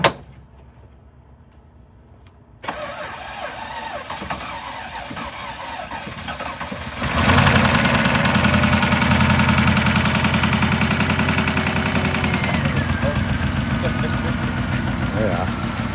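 Mercedes-Benz engine that sat unused for two years cranks over, catches and settles into a loud, rough steady idle close by, with people talking over it.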